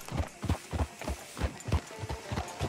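Horse hooves clip-clop at a steady walking rhythm in the Western video game Red Dead Redemption 2, about ten close, even hoof falls over a light ambient bed, with no talking.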